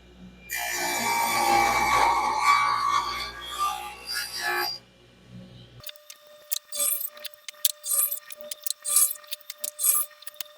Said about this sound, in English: Now it's time to cut the individual bars.